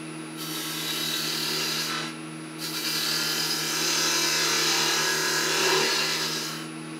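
A gouge cuts wood on a lathe while a small vase is turned, making a continuous scraping, rushing hiss over the steady hum of the lathe, with two short pauses between passes.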